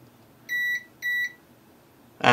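Two short, clear electronic beeps from a multimeter on continuity test across shorted capacitors on a Nintendo Switch board, evenly spaced and alone in a quiet room.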